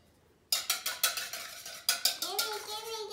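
A spoon stirs peanut butter cookie dough in a bowl with a rapid series of rhythmic scraping knocks, pausing briefly before resuming, close and fairly loud.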